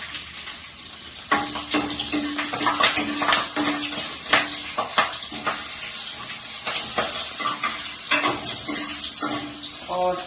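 Cumin seeds and red chili sizzling in hot oil in a kadai on a low gas flame, a steady close crackle with frequent spoon scrapes and clinks against the pan.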